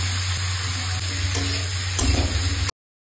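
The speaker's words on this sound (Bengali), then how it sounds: "এবার হচ্ছে পটল ভাজা, এটা ভাজাই হবে" Slices of pointed gourd (potol) frying in a pan in a home kitchen, giving a loud, steady sizzle with a constant low hum beneath and a couple of brief stirring clinks before it cuts off.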